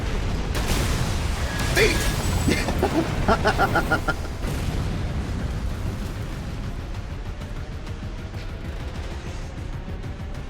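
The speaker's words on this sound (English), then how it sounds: "I had to get my explosion off before your explosion." Armored Core VI mech combat erupts in a burst of booming explosions and rapid gunfire crackle, loud at first and then fading into a rumbling tail; a voice shouts briefly.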